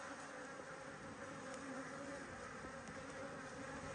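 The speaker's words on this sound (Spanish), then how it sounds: "Vamos a ver la piquera de la que hemos hecho la comida, a ver si se la han acabado ya o si siguen ahí libando" Dense, steady buzzing of many honey bees crowding a hive entrance to feed on a summer day, a continuous close drone with no talk.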